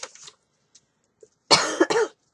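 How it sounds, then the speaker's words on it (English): A couple of small, quiet sounds, then two harsh coughs in quick succession, loud and close. "Coughing, it makes it uncomfortable."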